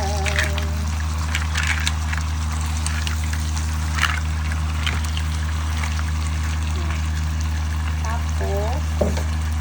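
Mussels (tahong) tumbled and stirred through a frying pan with caramelized tomatoes, a steady close sizzle and scrape running throughout under a constant low hum, with a person humming a tune over it.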